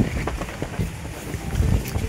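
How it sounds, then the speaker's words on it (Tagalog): Strong wind buffets the microphone at a foggy campsite in Cavite, a constant low rumbling roar with gusty thumps that rises and falls throughout, loud and close with no one speaking. "Laksang hangin, sarap."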